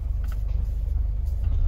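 A car maneuvers to turn around on a rough dead-end mountain road, its engine giving a close, steady low rumble with slight surging pulses and a faint crunch, no talking over it.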